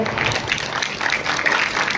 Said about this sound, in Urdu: زوردار تالیاں ہونی چاہیے.